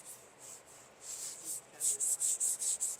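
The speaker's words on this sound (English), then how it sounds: "And then we'll just get our rag and start rubbing it around." Cloth rag rubbing wood stain over a deck bench, a soft, steady swishing that strengthens into a series of rhythmic, close strokes toward the end.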